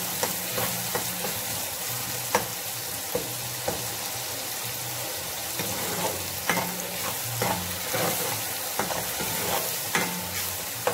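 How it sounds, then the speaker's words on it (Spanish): Rice with black-eyed beans fries in a pan, Colombian coastal style, with a steady close sizzle. Frequent sharp scrapes and clacks of a spoon stirring against the pot break through at irregular intervals. "Dejamos que se fría bien."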